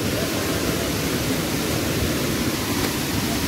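Dhangar Waterfall near Kondeshwar temple in Badlapur roars as a loud, steady, broad rush of falling water heard from close by, with no pauses.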